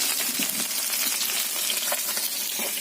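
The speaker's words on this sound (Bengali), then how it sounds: "মাছটা ভাজা হচ্ছে" Fish frying in a pan over a wood fire, a loud, steady close-up sizzle and crackle with scattered pops and no talk.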